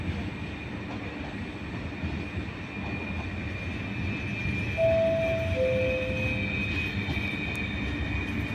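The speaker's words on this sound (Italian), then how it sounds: "Il treno regionale 17019 di Trenitalia, proveniente da Venezia a Santa Lucia e diretto all'arrivo delle ore 16:41, è in arrivo al binario 1" A Trenitalia regional train pulls into a platform at Padova station, a steady low rumble of rolling stock with brief high wheel squeals near the middle, holding at moderate level with no voices.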